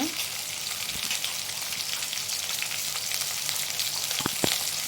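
Onions sizzle and fry steadily in a hot pan for a chickpea-style stir fry, a dense, even crackle that stays loud and continuous, with a couple of faint utensil taps near the end.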